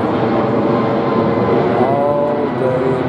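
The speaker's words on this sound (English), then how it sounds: "The UPS planes coming and going." UPS cargo planes fly over a campground, a loud, steady aircraft engine roar that fills the whole stretch without letting up.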